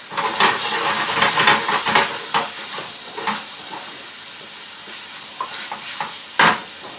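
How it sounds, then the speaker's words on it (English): Chicken tikka masala given a quick stir in a hot pan over medium-high heat, loud sizzling with repeated scraping strokes that thin out into sparser crackles and a final sharp scrape. "Let's give that a quick stir."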